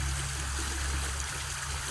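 Water flowing steadily in Coldwater Creek, a chemically polluted Midwest stream, heard as a continuous close rushing trickle with a low rumble beneath and no talk.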